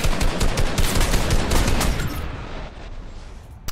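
Fortnite gunfire, a dense volley of loud, rapid shots up close for about two seconds, then fading into echoing decay with a final faint crack.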